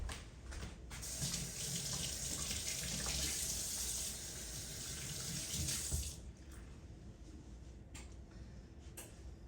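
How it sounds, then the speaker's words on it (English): Hands washed under a running kitchen tap: a steady rush of water for about six seconds, then the flow stops and leaves faint drips and small knocks in a quiet room. "let me wash my hands"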